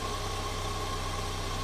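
A car engine with Bosch K-Jetronic fuel injection runs lean as fuel pressure is raised, a quiet steady idle hum with faint mechanical vibration and no talk.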